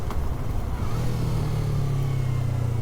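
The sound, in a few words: motorcycle riding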